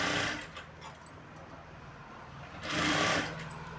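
Sewing machine stitching a blouse, two short bursts of whirring stitching with quieter handling in between, fairly faint and close.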